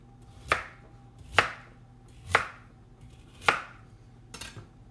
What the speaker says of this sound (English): So coarsely chopping these carrots, they're going to go in here as well.